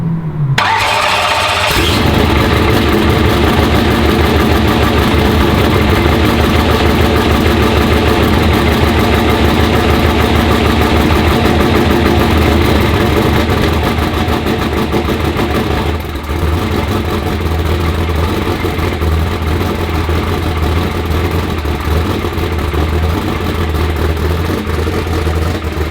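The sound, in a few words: vehicle engine idling in gear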